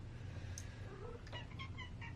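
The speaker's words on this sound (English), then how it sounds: "And now my cat wants to talk to me." A house cat meows a few short calls close by in a quiet indoor room, the brief cries standing out over a low steady hum.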